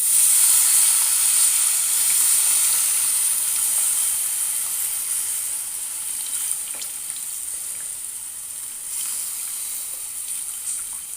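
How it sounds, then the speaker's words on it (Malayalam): Tamarind water hits a hot pan of Kerala kanambu fish curry with mango and tomato, making a steady bright hiss and sizzle that carries on evenly and fades slightly, with no one speaking. "കുറച്ച് പുളി ഒഴിച്ചു കൊടുക്കാം"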